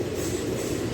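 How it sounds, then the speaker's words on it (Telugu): A passenger train on a local line pulls into Umdanagar railway station, Hyderabad, its steady rumbling roll of wheels and carriages heard close and loud for the whole short stretch. "ఏదో ప్యాసింజర్ ట్రైన్ వచ్చింది"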